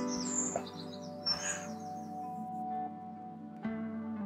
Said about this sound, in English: He's frightening all the birds off.